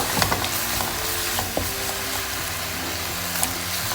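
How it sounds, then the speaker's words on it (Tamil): Grated onion for shepherd's pie fries in a pan with a loud, constant close hiss, a faint steady hum beneath it and a few light utensil taps. "இதில் இப்போ வந்து நம்ம வெங்காயம் சேர்த்துக்கலாம்."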